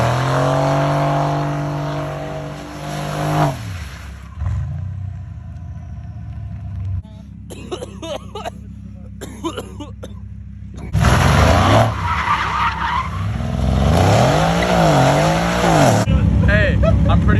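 A car spins out with loud tire skidding and engine revving, the squeal rising and falling in sweeping arcs over a rumbling motor, with brief quieter stretches between bursts.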